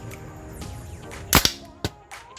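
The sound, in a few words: gunshot through a homemade silencer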